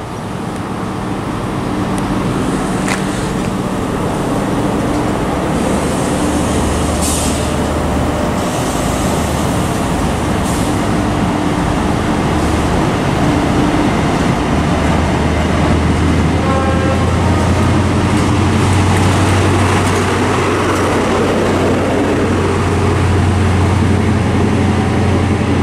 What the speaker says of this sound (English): are about to depart with Great Western Railway service to Cardiff Central from Taunton